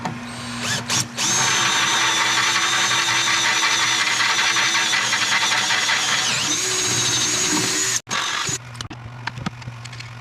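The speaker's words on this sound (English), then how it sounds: "I'm going to drill these holes out one size bigger to mount the winch on here" A power drill bores holes in metal for mounting a winch on a John Deere 317 lawn tractor, a loud, close, sustained whine running about seven seconds with brief starts and stops at either end.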